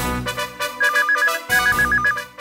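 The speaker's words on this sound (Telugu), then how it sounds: "చూసారా, ఫోన్ కూడా మోగింది." A mobile phone rings loudly and close by, repeating a bright electronic ringtone melody in two quick bursts with no talking over it.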